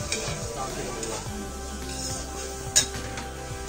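Masala spices tossed into a hot pan in a village kitchen, a steady soft sizzle with stirring scrapes and one sharp clink of utensil against the pan.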